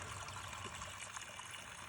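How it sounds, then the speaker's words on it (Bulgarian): Water trickles faintly and steadily from a newly built public drinking fountain set outdoors among shrubs, a soft continuous dribble with no voices. "Това е самата чешма."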